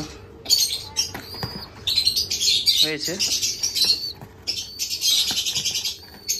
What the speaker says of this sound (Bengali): এখানে আমার কিছু একটা সাদা পায়রার বাচ্চা আছে, দেখাচ্ছি আপনাদের।